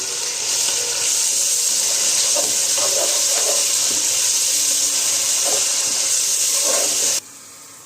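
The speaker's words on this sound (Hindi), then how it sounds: "1 कप पुदीना और आधा कप करी पत्ता और कोथिमीर 1 कप डाल के अच्छी तरह से भून लीजिए" Green chillies, mint, curry leaves and coriander fry in a hot pan for Hyderabadi khichdi khatta, a steady loud sizzle and hiss that cuts off abruptly near the end.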